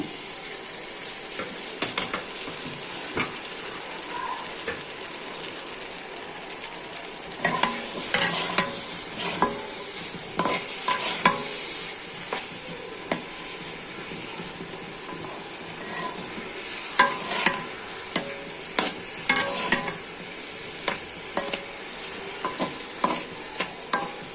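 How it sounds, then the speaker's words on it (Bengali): Chopped green chilies, potato and eggplant sizzle steadily in a pan, with repeated scraping and clattering stirring strokes coming in bursts over a continuous frying hiss, close and moderately loud. "এখানে যে কাঁচামরিচ, আলু, বেগুন কুচি কুচি করে কেটে নিয়েছি, ওগুলা ভেজে দিচ্ছি।"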